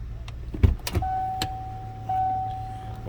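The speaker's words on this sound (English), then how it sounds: "wipers do work" Inside a parked 1989 Lincoln Town Car, a few light clicks give way to the steady electric whine of the windshield wiper motor running on, fairly quiet and indoors.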